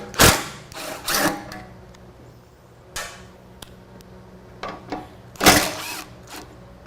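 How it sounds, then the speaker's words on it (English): Ratchet undoing T40 bolts on the rear fender of a 2011 Harley Davidson Street Glide: several short, close bursts of rapid clicking separated by quieter pauses, with no talking. "We'll remove these two T40 bolts, as well as on the other side, the fender will drop down and out."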